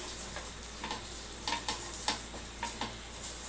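Half an onion rubbed across a hot dosa pan gives soft sizzling with a series of short rhythmic scraping strokes, close and fairly quiet, with no voices.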